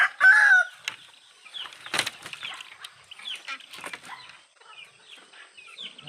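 Chickens cluck and squawk nearby at their coop, with a loud call at the start, a burst of flapping, then scattered softer clucks.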